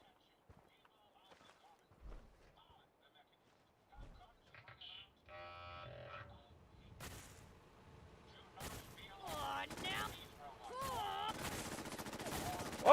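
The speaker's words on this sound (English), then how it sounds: "She's pretty deadly with that combat shotgun." Intermittent gunfire from a combat shotgun and other weapons in a Fallout 4 battle, with several sharp shots in the second half under game sounds and a companion voice.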